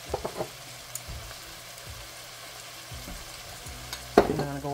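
Vidalia onion sautés in a pan with a soft, steady sizzle and frying hiss, a few light stirring scrapes near the start and a louder utensil clatter toward the end.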